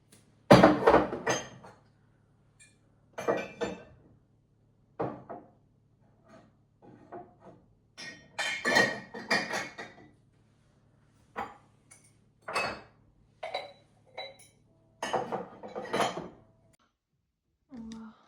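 Intermittent clinks and knocks of ceramic cups and dishes being set down on a hard surface, in short separated bursts with quiet gaps between.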